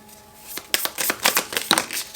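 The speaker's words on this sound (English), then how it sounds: "did you not see me just shuffle that deck?" A deck of tarot cards is shuffled by hand, giving a quick run of crisp papery riffles and flicks, close and fairly loud, with no voices.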